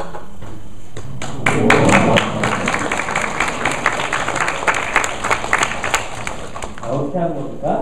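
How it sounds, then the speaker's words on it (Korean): An audience at a presentation event breaks into applause, many hands clapping in a lively burst that swells early and then continues steadily, with a little background voice activity mixed in. "이러면 박수 한번 주시겠어요?"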